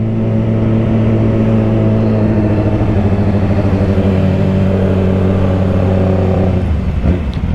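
A Yamaha R6 and a Ninja 400 ride downtown in Greenville, South Carolina, a steady loud engine drone with a low rumbling hum close by, ending in a brief clatter.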